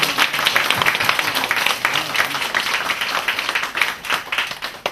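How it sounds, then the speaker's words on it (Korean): An audience at a Korean youth charity event claps after a lecture, a loud run of rapid, overlapping hand claps that rises and falls across the whole stretch. "강연 말씀 너무 감사드린다고 박수 한번 부탁드리겠습니다"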